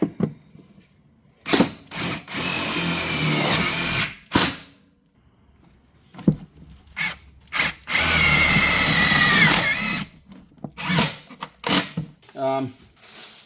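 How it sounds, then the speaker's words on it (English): A power drill whines in two long, loud bursts into a cargo trailer's metal frame, separated by clanks, handling noise and brief speech nearby. "Try to drill out the other side."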